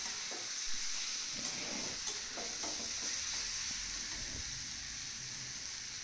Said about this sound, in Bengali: চিকেন দিয়ে এটাকে ভালো করে ভাজা ভাজা করতে থাকতে হবে